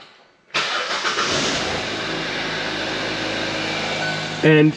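A Hyundai Tucson engine cranks and catches after a moment of quiet, then settles into a steady idle close by, with a brief louder burst near the end.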